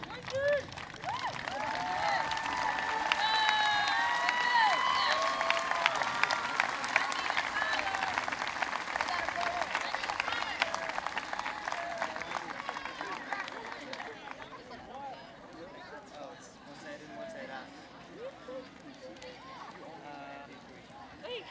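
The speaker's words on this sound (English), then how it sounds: "Big applause for him," A crowd applauding steadily at a 2005 high school commencement, dense clapping that holds strong for several seconds then gradually thins and fades, with some voices mixed in.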